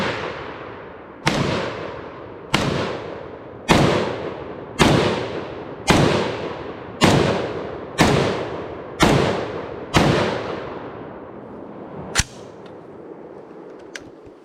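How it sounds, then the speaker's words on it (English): A SIG SG751 SAPR Swiss Arms precision rifle in .308 fires about ten loud, sharp shots at a steady pace of roughly one per second, each cracking and then decaying, followed by a couple of fainter clicks. "The SG751, it's called a sapper, Swiss Arms precision rifle. That one's loud. 308."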